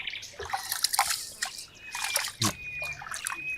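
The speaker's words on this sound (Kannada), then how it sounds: "ಅಕ್ಕಿನ ಕ್ಲೀನಾಗಿ ವಾಶ್ ಮಾಡಬೇಕು." Rice being washed by hand, with trickling, sloshing water and small splashes in short irregular bursts, close and fairly quiet.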